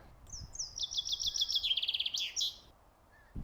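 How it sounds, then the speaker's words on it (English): A bird in the Wingspan board game gives a single bright song, a quick run of repeated chirps trilling and then rising into a final flourish, clear and close against a quiet background. "You silly bird, what are you doing in there?"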